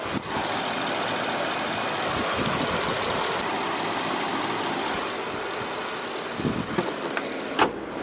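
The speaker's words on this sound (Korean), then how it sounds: "엔진 소리 한번 들려드릴게요" A smooth, steady engine of a used Hyundai Equus VS500 Prestige idles continuously at close range, a low even rumble with a few brief knocks near the end.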